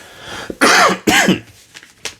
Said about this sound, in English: That cough does not want to go away.